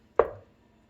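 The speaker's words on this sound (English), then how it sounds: "So what I'm doing now is just chopping up this sausage." A single crisp knife chop through sausage on a board, one short thud that fades quickly in a quiet kitchen.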